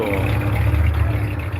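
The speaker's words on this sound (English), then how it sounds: "there goes another Corvette trying to run away from us over here" A Chevrolet Corvette drives past at an air show, its engine a steady, fairly loud mid-low rumble that holds through the short moment without fading.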